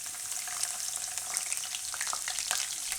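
Garlic sizzling in hot oil in a pan for a Gujarati sprouted fenugreek and potato dish, a steady, soft crackling fry with small pops throughout.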